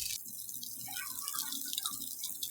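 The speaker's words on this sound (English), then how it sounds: "You pour the sauce." Sauce poured into a pan while making fried ramen with vegetables and sausage, a soft continuous liquid trickle and drip heard alone at close range for a couple of seconds.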